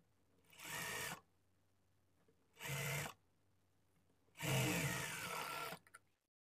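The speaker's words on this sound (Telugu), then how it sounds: "పావించి మార్జిన్‌తో స్టిచ్ చేసుకోవాలి." Sewing machine stitching a blouse lining in three short bursts of whirring, close and clear, separated by brief quiet pauses and no speech.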